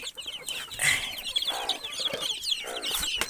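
Several farm hens cluck and squawk close by in short, overlapping bursts, a busy run of calls with no speech.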